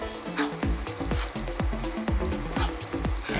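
Washed brown rice sautéing in a hot pot with exotic mushroom preparations underway, a steady close sizzle broken by repeated scraping stirs in a loose rhythm.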